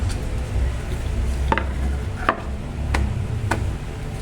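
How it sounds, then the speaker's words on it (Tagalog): A knife chopping onion, chili, bell pepper and tomato on a board for Filipino pork giniling, a few distinct, fairly close taps at uneven intervals over a low kitchen background. "So, hiwain lang natin yung mga ingredients."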